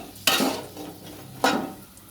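Potato chips fry in oil in a home kitchen, with a soft continuous sizzle and two sharp bursts of stirring and scraping at the pan, close by and with no talking.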